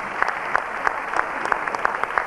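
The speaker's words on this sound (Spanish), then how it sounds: "Nos aplaudimos para entrar un poco en el clima." Audience applause at a 1994 jazz festival, a crowd clapping in a fairly steady, moderately loud patter with some sharper claps standing out regularly, no talk over it.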